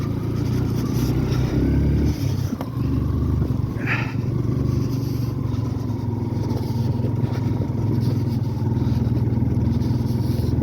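A motorbike climbs a steep uphill rural road in Panchthar, Nepal, its engine droning steadily and loudly at close range throughout, with no talking.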